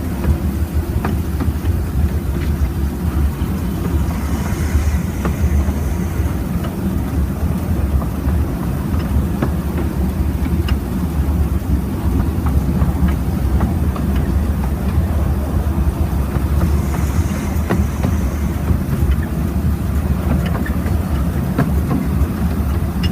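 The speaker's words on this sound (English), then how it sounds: "Just keeps a little bit of power on round here to keep the train moving." Mad Bess, a steam locomotive on the Ruislip Lido Railway, hauls its train under light power with a continuous loud rumble and rattle of wheels on track, heard close from aboard.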